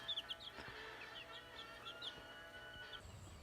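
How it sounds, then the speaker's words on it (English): Baby chicks peep in quick, high chirps at close range, a faint, busy cluster of calls over a low background hum. "11 baby chickies so far."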